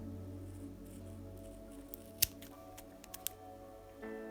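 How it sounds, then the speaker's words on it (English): A few faint, sparse snips and small ticks sound close up as a blade cuts around double-sided tape while a part is prepared for a Tamiya 2021 Ford Bronco model kit, set over a quiet background hum. "I'm going to attach it to the double-sided tape, just like that. And then I'll cut around it."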